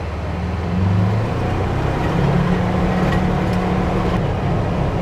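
Inside the cab of a Polaris Ranger utility vehicle with a 1000cc engine, driving along a road with the AC running, a steady loud engine drone and road rumble that holds evenly throughout.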